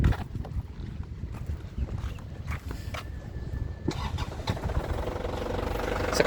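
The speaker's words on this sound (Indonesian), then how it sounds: "kita nyalakan mesinnya yuk" A 2018 black Isuzu Panther LS Turbo diesel with about 80,000 km cranks briefly and catches on the first try, then settles into a steady idle, heard close with no talking.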